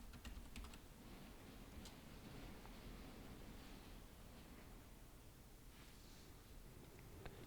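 Computer keyboard typing on a PC, a faint, steady run of soft key clicks held under a low background hiss, with no voices.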